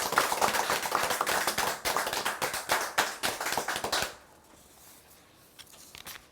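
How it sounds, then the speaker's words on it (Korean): Lively applause from the audience at a launch ceremony, many hands clapping densely for about four seconds before stopping abruptly into a quiet room. "서로를 위한 격려의 박수 부탁드립니다."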